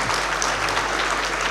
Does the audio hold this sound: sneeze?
no